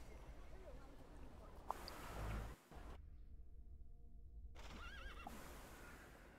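A horse whinnies and its hooves clip-clop in the video game The Thaumaturge, with a brief break in the middle. The ambient game soundscape runs steadily beneath it, and there is no talking.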